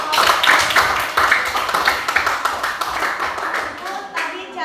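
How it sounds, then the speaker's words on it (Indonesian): A class claps for a student group at a school cooking lesson where instant noodle soup is being made, with scattered, uneven handclaps close by and voices talking over them. "Iya, tepuk tangan buat kelompok."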